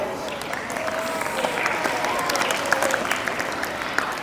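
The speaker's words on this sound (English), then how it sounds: "All of you give a good clap" An audience at a school inter-house song and skit competition claps loudly and continuously for a prize announcement, many hands in dense steady applause with voices faintly underneath.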